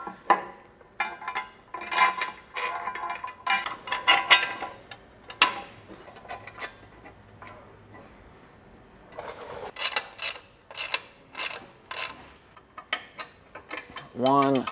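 A ratchet wrench clicks in rapid bursts while tightening carriage bolts on Toyota 4Runner skid plates, close and crisp, with pauses between runs and someone speaking briefly.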